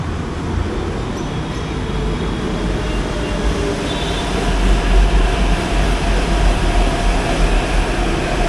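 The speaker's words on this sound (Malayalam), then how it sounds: "ട്രെയിൻ ഓൾറെഡി കടന്നു വരുന്നത് കാണാം" Hyderabad Metro train, a three-coach L&T-operated service, rolls into a station with a steady broadband rumble and hiss that swells louder in the second half as it draws near, with no talk over it.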